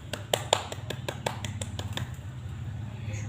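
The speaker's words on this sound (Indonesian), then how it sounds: "Kita beri tepuk tangan anak-anak." Children clapping hands in an Indonesian primary school classroom, a few sharp claps followed by a soft rhythmic run of claps that fades out, recorded faintly over room hum.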